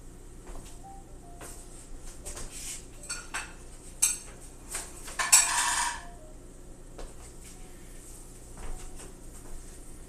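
Dishes and a gray sheet pan clink and rattle on a drying rack in a kitchen, a few sparse metallic chinks with one louder clattering burst in the middle, otherwise quiet.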